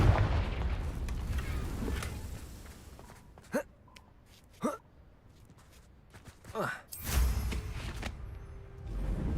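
Confringo blasting spell firing in the Hogwarts Legacy video game, several separate sharp whooshing blasts spaced a second or two apart, followed by a louder burst near the end.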